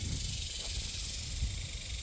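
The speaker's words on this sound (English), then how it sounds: "That's the sound they make when they sing." A dense, continuous high-pitched buzzing drone of cicadas fills the air, steady and unbroken from start to finish.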